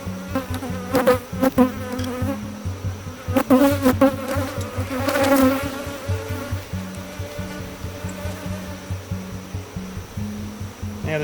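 Agitated honey bees buzz steadily at an open hive, a dense close droning hum with louder swells as individual bees pass near, and no talking.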